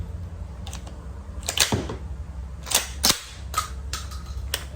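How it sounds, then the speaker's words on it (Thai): Sharp mechanical clacks and snaps from the action of a Commando M4 semi-automatic shotgun as a stuck shell is cleared, several close, crisp metallic bursts spread irregularly over a quiet background, with no talking. "นัดแรกที่ยิงนะฮะ เดี๋ยวขอคัดทิ้งก่อนครับ"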